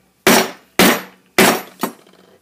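A hammer strikes a chisel driven into the end of a steel power conduit fitting, four sharp ringing metallic smacks in uneven succession, close and loud with short decays.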